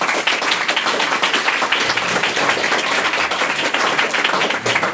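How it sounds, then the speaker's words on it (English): A debate audience breaks into steady, loud applause in a hall after a debate on refugees, a dense wash of many hands clapping throughout without talk. "Another applause, and we'll head on to VAR."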